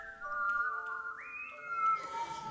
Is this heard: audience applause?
no